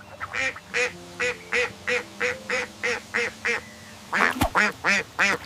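A duck quacks in a steady series of about a dozen loud, evenly spaced calls, then a denser burst of harsher quacks near the end, close and clear with no talk.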